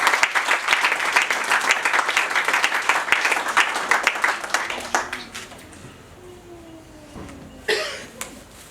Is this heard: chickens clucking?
no